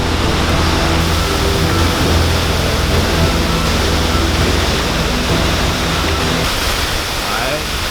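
Bang Pae Waterfall in Phuket, Thailand pours in a dense, steady roar of falling water, loud and unbroken throughout, with a voice faintly audible beneath it.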